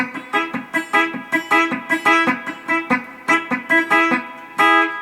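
Bright plucked steel guitar notes in quick, choppy triplets, each one cut short by palm blocking, played close and fairly loud with no voices.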